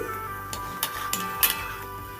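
Fried mango fritters lifted out of a pan of hot oil, with a few light metallic clinks and scrapes of a utensil against the pan over a soft steady sizzle.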